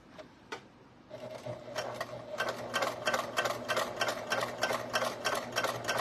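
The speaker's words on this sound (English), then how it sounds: "So then I'll go ahead and stitch my ends together" An HD9 sewing machine stitches the ends of webbing keychains together, a steady close-up run of rapid, even mechanical ticks over a low motor hum after a brief quieter start.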